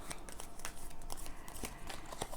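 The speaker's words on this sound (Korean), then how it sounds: "카드 섞고요." Tarot cards shuffled by hand for a reading, a quick run of soft papery riffles and taps, close and quiet with no voice.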